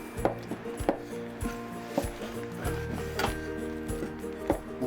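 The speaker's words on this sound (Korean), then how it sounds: "이 보고 껍질을 잘게 썰어 묵을 만듭니다." A knife chops pufferfish skin finely on a board, with sharp irregular knocks over a low background drone and faint tonal hum in a Korean kitchen setting.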